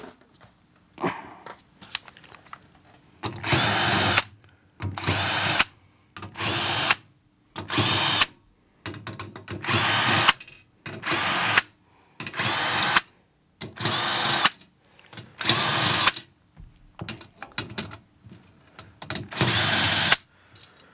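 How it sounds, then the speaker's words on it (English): A power drill whirs in about a dozen short bursts, each a second or so, separated by brief pauses and quiet handling noises, as it unscrews the tension rods of a 15x6.5 bronze snare drum. "I'm going to still zip them off with the drill"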